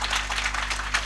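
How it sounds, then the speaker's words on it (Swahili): An audience at a Laikipia University graduation ceremony gives a final round of applause. The clapping is brief, moderate and fairly distant, over a steady low hum. "Tuwapigie makofi ya mwisho tafadhali."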